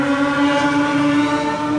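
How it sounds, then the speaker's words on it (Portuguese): Newly bought motorcycle with its engine held at high revs, a loud, steady droning tone with strong harmonics, close to the microphone and without talk. "O amigo comprou a moto nova lá, tá arregaçando para ver se tá funcionando direitinho"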